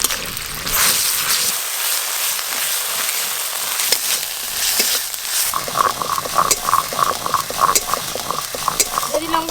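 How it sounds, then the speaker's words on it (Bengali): Onion paste and ginger-garlic paste frying in hot oil, with a steady sizzle under repeated scraping and stirring of a spatula against the pan, close and fairly loud, with no talking. "সব একসঙ্গে একটু ভালো করে ভাজবো"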